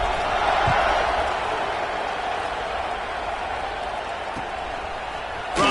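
Stadium crowd in the NCAA 26 college football video game roars steadily before kickoff, a dense, continuous cheer at even loudness throughout with a few faint thumps.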